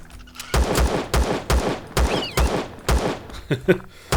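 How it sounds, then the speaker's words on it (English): Rapid gunfire from the video game Empyrion Galactic Survival, a string of about eight sharp, evenly spaced shots close and loud, followed by a brief clatter at the end. "So we can go ahead and start taking shots at him with my terrible aim."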